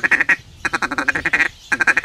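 Duck call blown to mimic a pintail's fast feed chuckle: rapid bursts of raspy quacking clucks in three quick runs separated by short pauses, loud and close.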